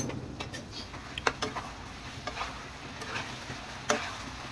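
Spices with ginger-garlic paste being stirred in a pan for a Bengali chicken curry, a faint soft scraping with occasional light clicks of the spoon against the pan over a quiet background.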